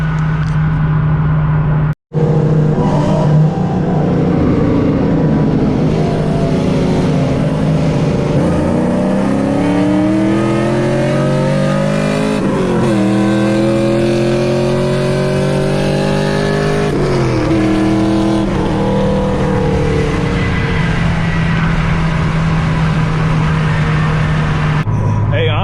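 A tuned LS1 Chevrolet Camaro and a tuned VHR race, engines loud and close, revving up through rising gear sweeps again and again over a sustained roar. Voices talk over the engines.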